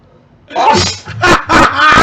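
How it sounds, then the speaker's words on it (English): A person sneezes loudly and close up, in a burst of forceful sneezes in quick succession, with some breathy vocal sounds around them. "Oh, you're sneezing."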